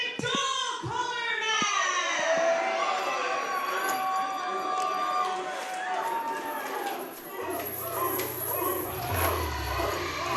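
An arena crowd at a wrestling dog collar match barks like dogs, with people's voices imitating the sound: a string of loud, close barks early on, then a rowdy, clamoring crowd under ongoing noise.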